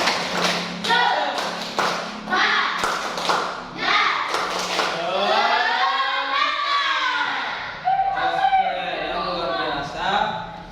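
Schoolchildren chant "tepuk 1, tepuk 2, tepuk semangat" loudly in unison in a classroom while clapping their hands in short rhythmic bursts, the taps and claps mixed into the group voices.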